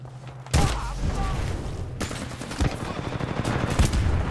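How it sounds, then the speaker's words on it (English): Titanfall 2 multiplayer gunfire on the Drydock map in Attrition mode, a loud blast followed by dense, sustained automatic fire with sharp individual shots poking through, close and continuous. "My God, I was getting shot at from all directions"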